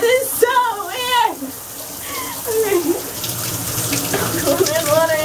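Water from a bathroom shower runs steadily throughout, a continuous hiss and splash close by, with a person talking over it.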